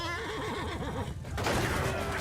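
A horse neighs in a Bannerlord battle, a loud, close, quavering whinny followed by a dense wash of battle noise.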